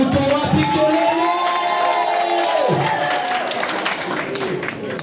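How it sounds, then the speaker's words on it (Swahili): A large crowd cheers, shouts and claps for President William Ruto. The roar is loud and continuous, with excited voices rising and falling over the applause throughout. "wapi makofi ya our president William Samoei Ruto wapi kelele"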